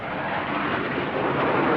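Aircraft pass overhead above a backyard, a loud, broad, continuous engine roar that swells slightly toward the end, with no voices over it.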